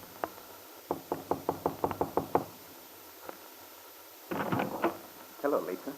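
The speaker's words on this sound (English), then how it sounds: "now Paul stands before her door waiting for an answer to his knock" Several sharp raps on a hotel room door, played as a radio drama sound effect: a quick burst of about eight close knocks, then a lone knock, followed by rustling movement.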